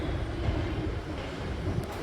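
An Ahmedabad metro train pulls into a station with a steady, close rumble and a wash of wind-like roar that lasts throughout. The sound stays loud and even, and nobody speaks.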